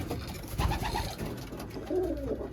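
Pigeons in a coop give soft, low, repeated coos, with one rolling call standing out near the end over a faint background.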